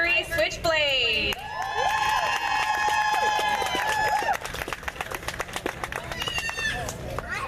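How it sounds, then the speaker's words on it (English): Crowd at a pin-up contest during a hot rod car and bike show, applauding and cheering for a second-place winner, with sustained clapping and whoops over loud music and shouting. "And big round of applause to Ivory Switchblade for winning 2nd place"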